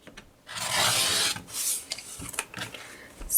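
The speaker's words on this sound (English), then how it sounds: "I'm going to cut some strips really quick for the one side." Fabric strips being cut for a quilt block, a rasping drag of about a second followed by several shorter scraping strokes, close and moderately loud.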